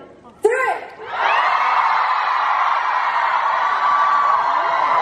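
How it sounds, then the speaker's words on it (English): A concert audience in Seoul screams loudly and continuously on cue for a group photo, a sustained roar of many voices that swells after a brief shout and holds steady to the end. "We're gonna have to scream really loud."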